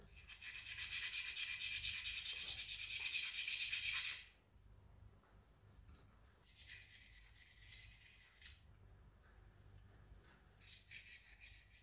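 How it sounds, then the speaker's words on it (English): A quiet scrubbing sound inside the groove of a CP1/Airbug air pistol during cleaning to remove burrs. It comes in two long strokes and then a short final burst, each separated by near silence. "just gently put it inside the groove, and just rub it nicely there"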